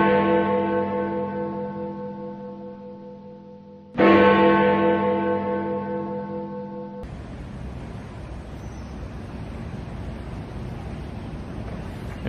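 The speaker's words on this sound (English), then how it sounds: "we'll bring you the chimes and the action from the clock" The Swiss clock at Swiss Court off Leicester Square, London, sounds two ringing bell chimes that decay slowly, then gives way to a steady mechanical whir as the clock's action starts.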